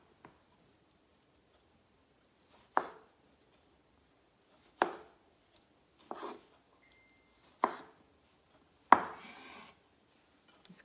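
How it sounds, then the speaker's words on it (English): A knife chops through tomatoes on a cutting board, halving them in five separate crisp strokes spaced a second or two apart, close and clear against near silence. "Cut the tomatoes in half."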